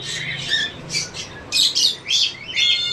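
A pair of cockatiels, a Lutino male and a Cinnamon Pearl female, squawk in sharp, loud bursts at a bird market, the calls coming in quick irregular clusters with short pauses between them.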